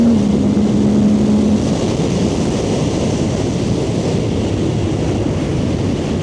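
A Suzuki GSX-8R motorcycle accelerates hard through the gears using its quickshifter, its engine a loud, dense roar mixed with rushing wind noise that stays steady and close throughout.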